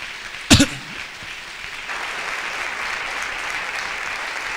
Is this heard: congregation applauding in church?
yes